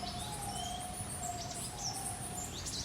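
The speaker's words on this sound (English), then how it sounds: "those two making that noise that sounds like a monkey, those are African white-cheeked green Turacos" Pair of African white-cheeked green turacos giving monkey-like calls, a steady tonal call line running throughout amid other chirps, moderately distant and faint, without talk.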